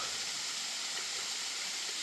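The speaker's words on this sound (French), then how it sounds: "Cette nouvelle cascade." Steady broadband rush of a waterfall in the Moorea countryside of French Polynesia, continuous and fairly even, no voices over it.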